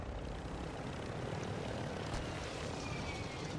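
A helicopter in Call of Duty Warzone, a steady low rotor and engine drone heard from inside the aircraft, constant and fairly faint with no talk.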